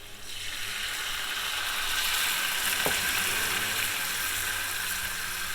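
Butter and beer simmer in a pan, giving off a soft, continuous hiss with a faint crackle and one brief click partway through, quiet and uninterrupted by speech.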